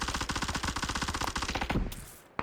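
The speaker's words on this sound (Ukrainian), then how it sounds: "По мені хтось інший стріляє." Rapid bursts of automatic gunfire in PUBG in a steady rattling rhythm, fairly close, stopping abruptly near the end followed by a single sharp crack.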